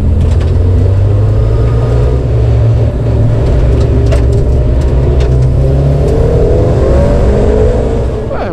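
A Dallara Stradale sports car engine roars loudly and accelerates on a track, its pitch climbing through the gears with brief dips at each shift, heard up close.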